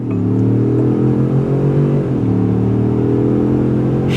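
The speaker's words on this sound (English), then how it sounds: "I'll give it a bit of a brake boost and fire out of the hole" A 2024 Ford F-150 Tremor pickup pulls hard, its loud engine note climbing steadily, then dipping briefly at a gear change before it drones on.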